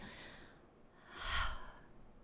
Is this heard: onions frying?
no